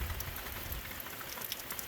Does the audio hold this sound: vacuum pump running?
no